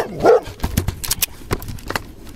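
A large stray dog on a street in a private-house district of Ulaanbaatar barks a few times, with short sharp bursts spread across the moment amid outdoor street noise.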